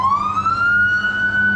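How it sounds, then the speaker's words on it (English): An ambulance siren wails loudly close by in one long rising tone over a low engine rumble. "that's not our siren, by the way, that's an ambulance"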